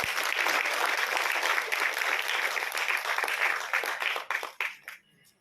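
Audience applause after a Bharatanatyam alarippu dance recital, steady dense clapping from a sizeable crowd that thins out and dies away in scattered claps near the end.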